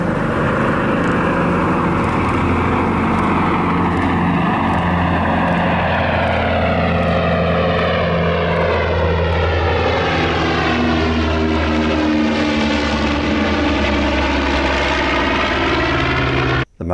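A Martin Mars flying boat's propeller engines drone loudly and continuously as it departs Sproat Lake, the roar shifting in pitch as the aircraft moves away.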